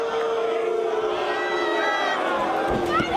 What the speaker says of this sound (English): The crowd voicing their displeasure.